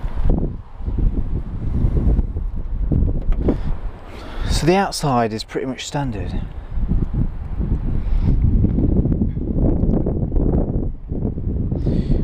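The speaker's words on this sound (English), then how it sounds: "It's very windy out, so you'll have to forgive me if you can't hear me properly." Heavy wind buffets the microphone with a constant low roar while someone talks through it beside a Ford Transit Connect micro campervan.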